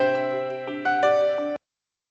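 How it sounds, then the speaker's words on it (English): An incoming call's electronic ringtone plays a melodic sequence of bright, sustained tones that step between pitches, steady and fairly loud, then cuts off abruptly, followed by silence. "Sorry, I just got a phone call."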